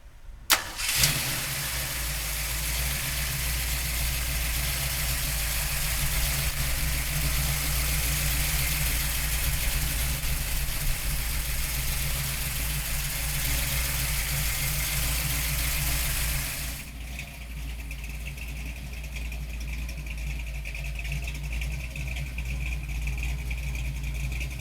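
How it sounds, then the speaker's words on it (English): A Ford Mustang S-Code with its 390 V8 running steadily after startup, a loud, constant engine drone that holds for most of the stretch, then drops a little lower and stays on, close by and with no talk. "let's fire this 390 up"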